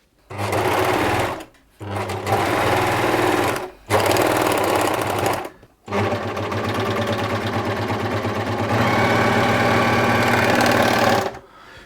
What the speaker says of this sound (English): I'll compare the machine with the machine threaded and, you know, sewing a seam.